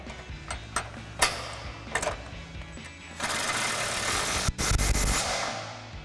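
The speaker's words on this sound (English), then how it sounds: "So now we're going to tighten our mounting bolt from our support brackets to our main brackets using our 17 millimeter wrench and 16 millimeter swivel socket on our impact." An impact wrench with a 16 millimeter swivel socket tightens a mounting bolt on a Jeep Wrangler JL step bar bracket: a few sharp clicks, then two loud buzzing hammering bursts close by.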